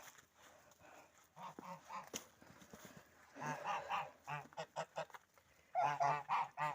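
Geese honk repeatedly in bursts, fairly close, with several birds calling over one another and quieter stretches between the louder volleys.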